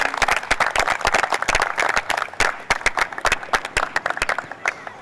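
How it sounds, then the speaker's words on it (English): A crowd claps at a sports awards event honouring young rising-star players, a dense, busy round of applause with sharp overlapping claps throughout, fairly close and lively. "if everybody can give these guys and you guys a big round of applause"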